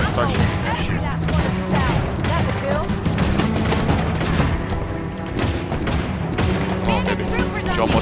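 Dense, continuous gunfire and explosions from the Halo Infinite campaign, a steady loud barrage of rapid shots and booms with voices talking over it.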